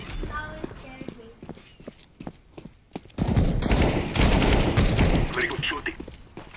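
Gunfire in the video game CS:GO, a sustained loud burst of rapid shots in the second half that follows scattered single shots, with a voice talking over it.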